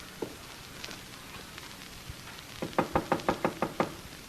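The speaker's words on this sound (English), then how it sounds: "Wise guy knocking on his own door." Knocks rap on a door in a 1945 radio drama: a few scattered taps, then a loud close run of about eight quick, evenly spaced knocks.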